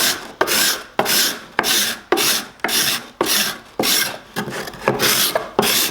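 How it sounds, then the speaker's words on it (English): A hand scraper is drawn across the concave inside of oak wine barrel staves, making loud close raspy strokes in a steady rhythm of about two per second, each a harsh scraping swipe. "What I'm finding is I've got this scraper that's got convex,"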